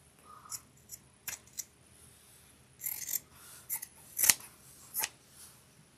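Scissors cut quilt fabric at an angle in a few sharp, close snips spread out with quiet gaps between them, and a dense cluster of cuts comes near the end.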